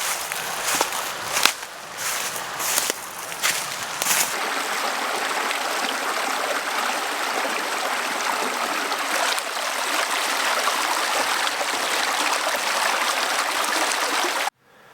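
A creek flows steadily beneath an old wooden bridge at Big Pond, New York, its broad rushing wash continuous and close. A few footsteps and knocks sound in the first seconds, then the water runs on alone until it cuts off.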